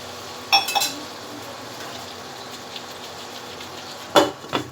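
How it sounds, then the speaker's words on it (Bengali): A metal lid clinks onto a cooking pot of gourd curry with rohu fish, two sharp close clinks separated by a few seconds over quiet stove hiss, with no talking. "ঢাকনা দিয়ে দিচ্ছি।"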